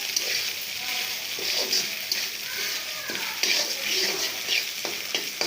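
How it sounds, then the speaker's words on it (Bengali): Egg stirred into onions and chillies frying in a pan, a soft continuous sizzle with scraping and stirring noises from a utensil, steady and moderately close. "ডিমটা আগে আমি এর ভিতরে ছেড়ে দেবো, পেঁয়াজ মরিচের ভিতরে ছেড়ে দেবো, দিয়ে একটু ভালো করে নাড়াচাড়া করে নেব"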